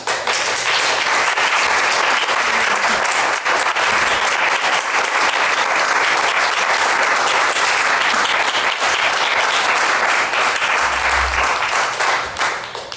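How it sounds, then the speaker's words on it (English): A conference audience at an award presentation bursts into sustained, even applause, a dense wash of many hands clapping for about thirteen seconds with no talk over it. "If we could give a round of applause to the new Westminster Elder Abuse Unit."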